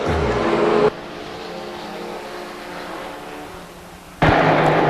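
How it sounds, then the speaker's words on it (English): Race cars and trucks roar around the Stockton 99 Speedway in 2002, a loud, dense engine rumble at the start, dropping to a steadier, quieter drone before surging back loud near the end. "Oh my God, the cars are spanking the truck."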